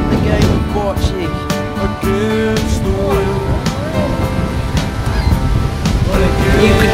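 Steady wind gusts blow across the microphone outdoors on a sunny day in Fairhaven during a bocce game, alongside waves and a few honking birds, with faint voices now and then.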